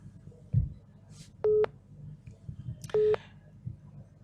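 A telephone busy signal after a call ends sounds as two steady electronic beeps about a second and a half apart. Faint room noise and low murmurs sit underneath.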